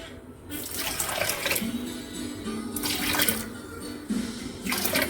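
Water runs steadily as about a cup is poured into a pot of green chicken chili, a continuous splashing flow lasting several seconds, fairly close and alone.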